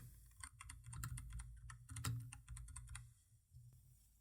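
Rapid, steady keystrokes on a computer keyboard as text is typed, close and fairly quiet, with a few slightly heavier clacks and no talking.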